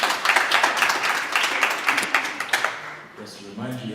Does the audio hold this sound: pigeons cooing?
no